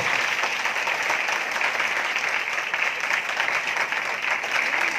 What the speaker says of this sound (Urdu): آئیے آسمانی باپ کے لیے زوردار تالیاں